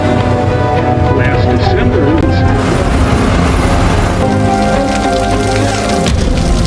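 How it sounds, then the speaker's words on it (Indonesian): Heavy rain pours down steadily and loudly for the whole stretch, a dense continuous wash with no talk over it. "saat hujan deras mulai turun"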